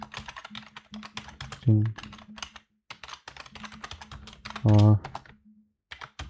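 Fast, irregular clicking of a computer keyboard as Python code is typed, close and continuous, with someone speaking over the keystrokes and brief pauses between bursts.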